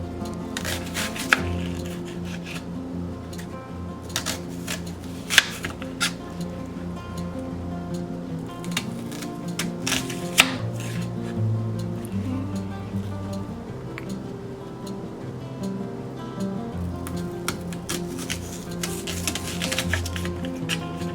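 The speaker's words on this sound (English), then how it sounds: "Start at the other end, cut off little slices." Knife cutting small slices of onion on a cutting board, one-handed, giving a steady run of close, soft chopping taps with a few sharper knocks, heard alone.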